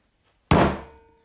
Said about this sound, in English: Scott bangs his fist on the desk.